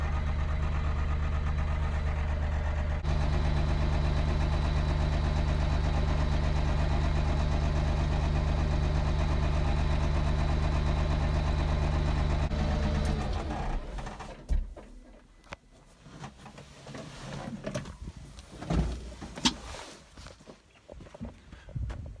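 A tractor engine idles with a steady low rumble for several seconds, then cuts out, leaving scattered knocks and clatter nearby.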